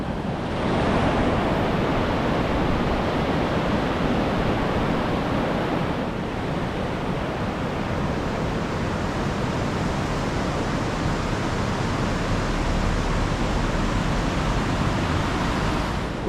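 A swollen river in Llangollen, Wales, rushes strongly after Storm Garrett, giving a steady, loud, dense roar of churning water that holds without a break throughout.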